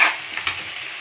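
Stuffed eggplant frying in a pan of oil gives a short burst of soft, crackling sizzle that stays fairly steady for about a second, with no voices.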